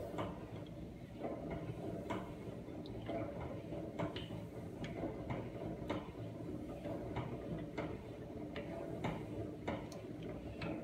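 Civan 3-12-12 honey extractor being cranked by hand, a faint mechanical whir with irregular light ticks and clicks from the gearing, heard close and alone.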